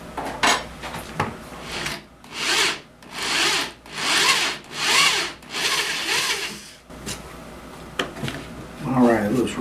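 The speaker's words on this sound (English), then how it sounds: "I got to drill some recesses in the end of my board" A drill bores recesses into the end of a wooden board for a DIY slow speed grinder, several drilling bursts of two or three seconds each, close and loud, separated by brief pauses and rustling.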